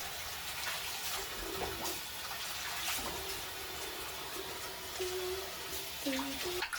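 Running water splashes steadily while a dog is bathed at home, a continuous close hiss and patter of water with occasional faint squeaks and tones rising above it.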